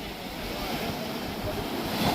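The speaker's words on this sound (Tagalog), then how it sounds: "Tumataas yung alon," Ocean surf building and rising, heard as a steady, full broadband wash of waves mixed with wind buffeting the microphone, continuous and fairly loud throughout with no talking.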